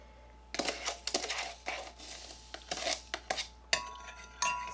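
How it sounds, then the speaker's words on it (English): A spoon scrapes and clinks against a container while soap ingredients are stirred for cold process soap, a series of close, uneven taps and scrapes with brief pauses. "So you want to stir it until there's no graininess at the bottom."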